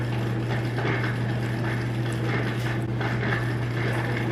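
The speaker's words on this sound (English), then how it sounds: "I don't know what's going on with my dishwasher back there, but it doesn't sound right." A home dishwasher running with a fault, giving off a steady low hum with a continuous ratcheting, gear-like mechanical rattle layered over it, moderately loud and unbroken.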